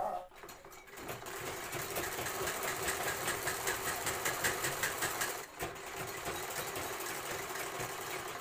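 A sewing machine stitches a fabric pillow cover, running in a close, fast, continuous whir with a brief pause partway before it resumes.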